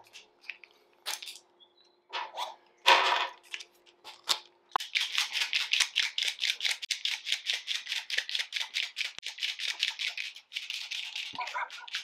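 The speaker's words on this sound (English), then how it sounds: "Do you want to start shaking some of these pens?" Rapid rattling clicks from paint marker pens being shaken, a few scattered knocks first, then a long steady burst of fast, even rattles close by.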